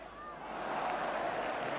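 A large football stadium crowd watching Spurs play Manchester United breaks into applause and cheering that swells and then holds as a loud, dense wash of clapping.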